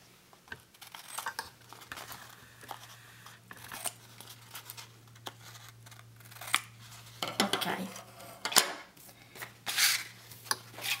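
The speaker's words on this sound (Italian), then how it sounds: "andiamo con le forbici a ritagliare gli angoli in questo modo" Scissors snip the corners of cotton paper in a craft project that reuses toilet paper rolls, making a series of crisp, irregular cuts with paper rustling between them, close and fairly quiet.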